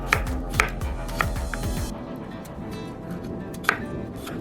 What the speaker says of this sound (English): I'm cutting 2 small cucumbers into smaller slices